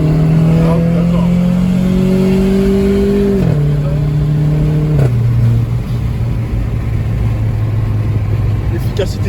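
A Renault car accelerating, its engine note droning close and loud, stepping down in pitch twice as it shifts gears, while people talk over it.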